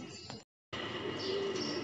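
Pigeons coo softly outdoors in hot sunny weather, a short low burbling heard through a brief cut in the sound, with faint background noise around it.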